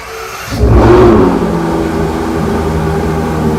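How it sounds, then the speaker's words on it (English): A Ferrari front-engine V12 car starting: a brief quiet, then the engine catches with a loud burst and settles into a steady, rumbling idle close by. "David, can we start this car?"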